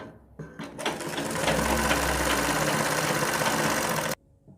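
A sewing machine runs in one steady continuous burst of rapid stitching along a kurti neck pattern, then stops abruptly, with no talk over it.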